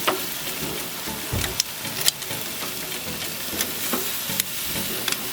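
Korean style BBQ short ribs sizzle loudly in a hot pan just after being flipped, a steady close frying hiss broken by sharp pops and crackles.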